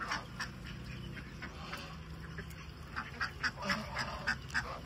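Seven- to eight-month-old Indian Runner ducks quack repeatedly in quick, uneven clusters, a moderately distant flock calling over steady outdoor background noise.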